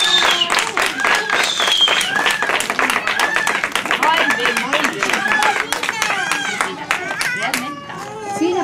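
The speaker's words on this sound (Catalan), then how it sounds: "Vinga, un aplaudiment." Children clap and chatter at a farm school outing, with excited voices and babble running over scattered, uneven clapping from a small group close by.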